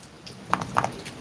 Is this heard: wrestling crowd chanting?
no